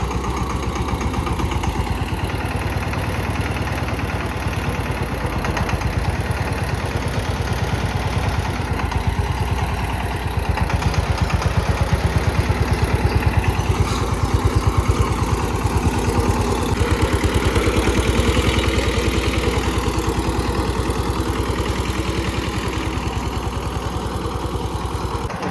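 An Eicher 188 tractor engine runs steadily and smoothly at close range. The even mechanical drone continues for the whole stretch without a break.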